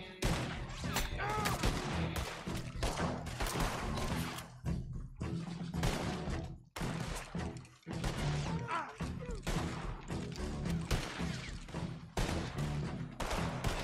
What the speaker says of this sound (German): ich krieg so viele Schüsse ab, ne?